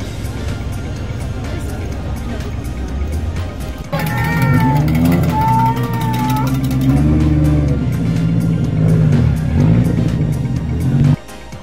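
Race cars at the Pikes Peak International Hill Climb 2024, a rumbling engine followed by a loud close revving car passing with rising and falling pitch, then a steady engine drone until it cuts off.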